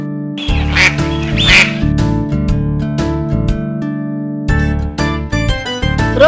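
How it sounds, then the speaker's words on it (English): A cartoon duck quacks several times over a bouncy kids' music backing, the quacks bright and clear near the start and again later in the clip. "duck,"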